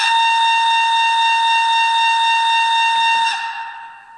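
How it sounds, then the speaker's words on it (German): A Spur 1 gauge model of the BR 98.75 steam locomotive sounds its whistle: one long, loud, steady multi-tone blast held for over three seconds, then cutting off with a brief fading tail. "Dann kommt der Lokpfiff."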